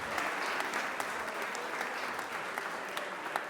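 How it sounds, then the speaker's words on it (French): An audience at a Paris stage show applauds a performer, with dense continuous clapping and a few sharper individual claps standing out, loud and close, with no talking over it. "Une acclamation au seu Betus."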